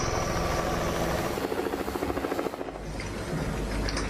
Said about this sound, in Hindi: ऑपरेशन में हेलीकॉप्टर से लेकर ड्रोन तक लगाए गए हैं